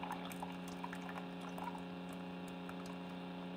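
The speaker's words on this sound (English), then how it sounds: "But the hot water comes out of there pretty hot." Hot water streams steadily from a Keurig K Elite coffee maker, a soft continuous pouring and gurgling sound over a low mains hum, faint and close.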